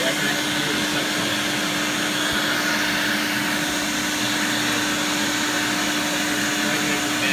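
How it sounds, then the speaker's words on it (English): A homemade bee vacuum pulls air in a constant close, loud whooshing drone with a steady hum beneath and no change in pitch throughout. "I can actually hear the suction."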